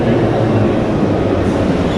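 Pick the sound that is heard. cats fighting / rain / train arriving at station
train arriving at station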